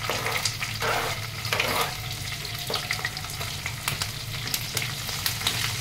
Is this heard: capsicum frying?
yes